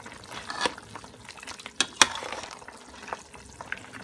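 A Guyanese beef pepper pot simmers and bubbles in a cooking pot, with soft wet popping and stirring sounds punctuated by a few sharp clinks of a utensil against the pot.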